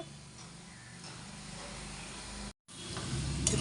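Bondas frying in a pan of hot oil give a steady, close sizzle and hiss that runs throughout, broken by one brief gap of silence near the end.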